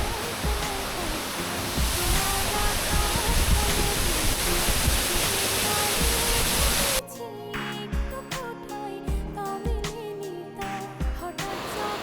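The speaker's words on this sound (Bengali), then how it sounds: "আমরা এখানে দাঁড়ালাম আর কি এই ঝর্ণা দেখার জন্য" Steady, loud rushing waterfall roar near Rangamati fills the first seven seconds, then gives way to quieter, choppier water noise with brief clatters, close by.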